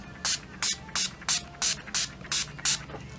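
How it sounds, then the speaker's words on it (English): Urban Decay oil-control setting spray misted onto a face in eight quick, even spritzes, each a short hiss close to the ear, with a steady rhythm and no talking. "we're going to be using this Urban Decay setting spray, oil control, and I'm just going to spritz it on my face"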